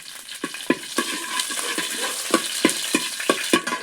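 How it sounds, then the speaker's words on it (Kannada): Mustard seeds, neem leaves and garlic sizzle in about eight spoons of hot coconut oil, with a steady frying hiss and a series of sharp crackles and stirring scrapes. "ಒಂದು 8 ಚಮಚ ತೆಂಗಿನೆಣ್ಣೆ ಸಾಸಿವೆ ಬೇವಿನೆಲೆ ಹಾಕ್ತೆ. ಬೇವಿನೆಲೆ ಜೊತೆ 3 ಬೆಳ್ಳುಳ್ಳಿ ಹಾಕಂತೆ"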